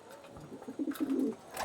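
A Ghiyapatti pigeon coos in a few soft, low bursts, close by and fairly quiet, with no voices.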